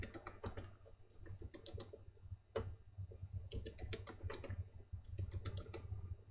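Quick bursts of close computer keyboard typing as a password is entered, with crisp clicking keystrokes in short irregular runs and small pauses between them, faint and quiet overall.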